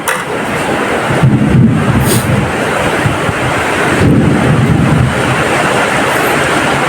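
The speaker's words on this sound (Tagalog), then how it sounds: "Lumalakas na naman ang ulan ho" Heavy rain pours down in a steady, loud, dense roar that swells a little stronger partway through, with no talking.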